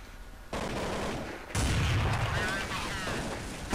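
A grenade explodes in Counter-Strike 1.6, a sudden loud blast with a rumbling low burst that decays into crackling noise, preceded by a shorter earlier bang.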